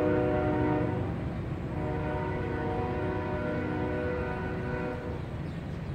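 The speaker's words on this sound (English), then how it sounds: "I hear a train" A train rumbles past at a moderate distance, its horn sounding as a sustained harmonic blare over a steady mechanical roar, with no voices.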